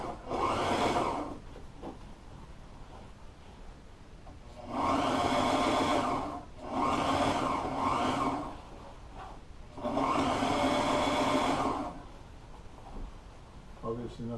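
A sewing machine stitches vinyl boat upholstery for a Wellcraft bench seat, running in three strong motor bursts of a second or two each, separated by quieter gaps with faint handling noise.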